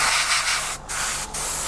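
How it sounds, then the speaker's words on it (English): An airbrush or spray can hisses steadily while paint goes onto a Tamiya 1/48 scale Supermarine Spitfire Mk.I model kit, loud and close, with two brief breaks in the spray. "we can just spray on this now"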